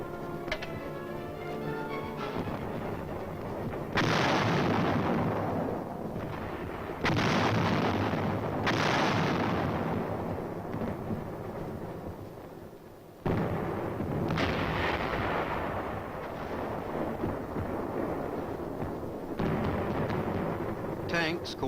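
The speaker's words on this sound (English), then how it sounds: "the big guns from this forward position concentrate their fire on known and" Self-propelled 155mm artillery guns fire from a forward position in a run of heavy booming blasts, each one sudden and loud and trailing into a long rumbling decay, with several shots spread across the stretch.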